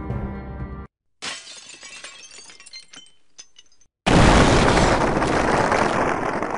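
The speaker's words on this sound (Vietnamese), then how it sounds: "Tôi nghe thấy một tiếng nổ vang dội kèm theo đó là âm vọng răng rắc, nghe như tiếng kính vỡ vậy" A loud explosion-and-glass-shattering sound effect: a short rumble, then a burst of shattering glass with scattered tinkling fragments, a brief pause, and a sudden dense roaring blast that stays loud to the end.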